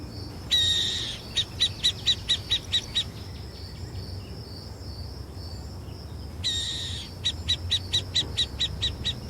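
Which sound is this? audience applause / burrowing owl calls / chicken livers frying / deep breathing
burrowing owl calls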